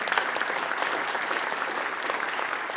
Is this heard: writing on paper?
no